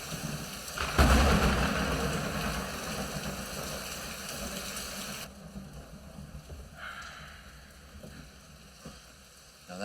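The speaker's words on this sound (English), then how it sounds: "Get out of the rain, kid." Steady rain in a storm with a loud rumbling burst near the start that fades out, the downpour hissing on quietly afterward.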